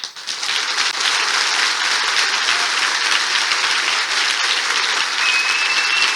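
A church congregation bursts into loud, sustained applause, a dense and even wall of clapping that starts abruptly and holds steady with no voices standing out.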